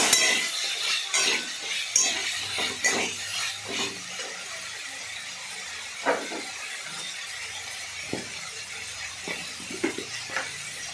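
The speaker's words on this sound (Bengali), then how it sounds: "দিয়ে এবার ভালো করে নাড়াচাড়া করলাম।" Cut potatoes and onions stirred in a pan, scattered clinks and scrapes of a spoon against metal with bursts of sizzle, close and loudest in the first few seconds, then sparser knocks, with no talking.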